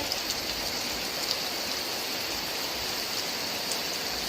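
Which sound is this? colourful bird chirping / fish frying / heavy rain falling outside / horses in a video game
heavy rain falling outside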